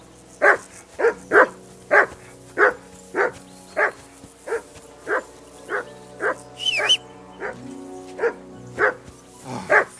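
A dog barking in the medieval game Kingdom Come: Deliverance II, about fifteen evenly spaced loud, close barks over several seconds, alone over a faint background hum.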